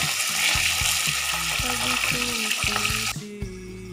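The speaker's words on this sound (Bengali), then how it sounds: "কাঁচা গন্ধটা যেটা থাকে মাছের সেটা চলে যাওয়ার জন্য আমাকে ভাজতে হবে, বাট খুব কড়া ভাজবো না" Fish pieces shallow-frying in hot oil in a kadai, cooked lightly to remove their raw smell, giving a steady loud sizzle and crackle with pan stirring and clinking over it, easing off near the end.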